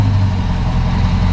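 The engine of a 2006 Dodge Magnum runs steadily at idle while the car sits in reverse, a loud, close low rumble with no break.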